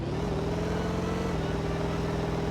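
A car engine in the driving game My Winter Car, throttle blipped and held at a rough, steady rev with a constant buzzing drone throughout, close and loud with no talking.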